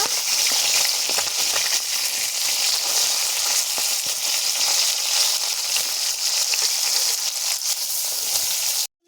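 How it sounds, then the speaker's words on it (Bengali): Bata fish frying in mustard oil in a wok gives a loud, continuous, crackling sizzle that runs unbroken and close, with no voices over it. "মাছগুলো উল্টে দু পিঠ লাল করে ভেজে নেব।"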